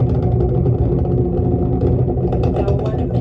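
A distant Artemis rocket launch heard from about 10 to 15 miles away, a loud, continuous low rumbling roar with rough crackle, steady with no voices.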